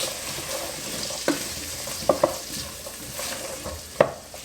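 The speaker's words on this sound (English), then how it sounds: "you want to stir them so that they're not burning" Vegetables frying in a pot for chicken noodle soup are stirred, giving a steady sizzle with a few distinct spoon knocks against the pot, close and quiet, no speech.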